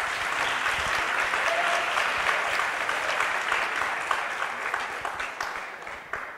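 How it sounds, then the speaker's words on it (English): Sustained audience applause for a keynote speaker at a conference session, a dense, steady wash of many hands clapping that fades slightly toward the end. "Everyone give a round of applause for Alfonso Romo."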